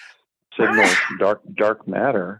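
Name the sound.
sneeze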